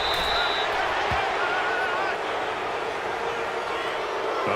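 A stadium crowd in Madden NFL 19 fills the air with a loud, sustained roar of disapproval at a penalty call, under a commentator's voice and a brief whistle.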